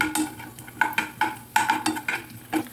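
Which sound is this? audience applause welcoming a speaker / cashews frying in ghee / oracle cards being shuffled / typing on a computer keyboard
cashews frying in ghee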